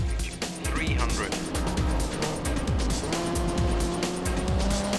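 Rally car racing in a video game: a loud, continuous engine roar with shifting pitch and tire noise, steady throughout with no pauses.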